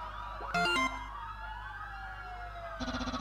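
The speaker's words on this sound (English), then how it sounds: "There's even police car." Police car siren in a Mario and Undertale crossover animation, a wailing electronic siren sweeping up and down under a game soundtrack, broken by short chiptune note bursts near the start and again at the end.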